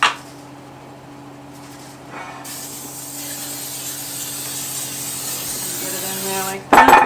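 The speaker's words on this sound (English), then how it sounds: "And I'm spraying it with coconut oil spray." Coconut oil cooking spray hisses into a pan as a keto meatloaf is prepared, a steady broadband spray running for several seconds at close range, with a low background hum and a clatter at the end.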